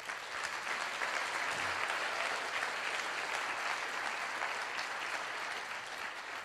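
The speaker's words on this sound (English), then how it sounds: "Give yourselves a round of applause." An audience applauds at a motivational speaking event, a dense, even wash of clapping that holds steady and fairly loud for the whole stretch without any voices over it.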